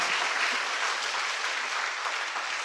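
Applause from a large audience at a teachers' gathering, a dense steady wash of clapping held at an even level throughout, moderately distant with no voices over it.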